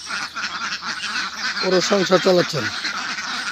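Ducks on a commercial duck farm of about 150 birds: a short run of nasal honking calls rises briefly midway, over steady background noise, while a person speaks.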